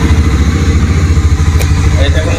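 The engine of a Hero Harley-Davidson X440, a 440cc motorcycle, runs close and loud with a deep, steady thumping pulse, and a brief tick is heard partway through.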